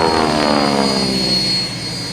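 A Messerschmitt Me-262 jet taxis at an air show while a T6 Texan comes inbound, producing a loud, steady jet roar with a whining high tone that eases off slightly near the end.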